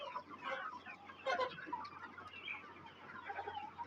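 Farm hens peck at cloth strips hung in their coop, clucking softly and repeatedly in a loose, overlapping chatter of short calls, fairly close and steady.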